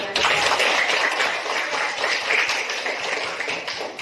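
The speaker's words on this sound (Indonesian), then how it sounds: "Tepuk tangan." A classroom of students applauds together, a dense steady wash of hand clapping lasting the whole stretch at fairly even loudness, with no voices over it.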